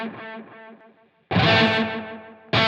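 Electric guitar through a Helix Cosmos delay on a quarter-note setting, a sustained chord decaying with repeating echoes, then two loud fresh strums ringing out with distorted, chorus-like shimmer, no voices.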